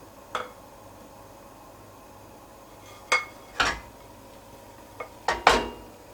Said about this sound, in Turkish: Daha sonra da böyle elimizle tavayı sağa sola çevirerek her yerine yayıyoruz.